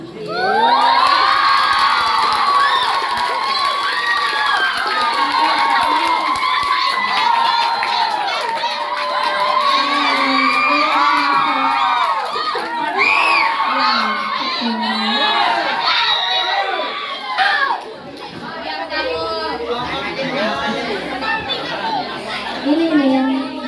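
Students at a middle school student council (OSIS) candidate debate shout and cheer loudly as a crowd, a dense continuous roar of young voices that dips briefly near the end before rising again.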